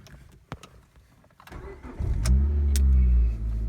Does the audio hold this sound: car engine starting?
yes